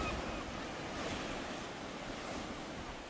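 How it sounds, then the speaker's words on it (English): Gentle waves lapping at the seaside in Ilfracombe, a soft continuous wash of surf with some wind noise, steady and fairly quiet with no talking. "Listen to the lapping of the waves."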